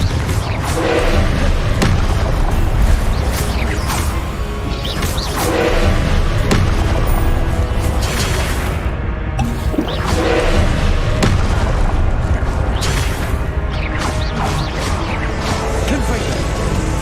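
Confringo fire spells exploding in repeated close booms and crashing thuds during a Hogwarts Legacy fight, dense and loud over steady battle noise, with a voice calling out between blasts.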